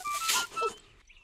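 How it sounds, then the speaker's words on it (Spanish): Rice shaken inside a closed, empty plastic bottle used as a homemade shaker: one brief, close, loud gritty rattle that fades quickly. "Ponemos arroz dentro de una botella de plástico vacía y la"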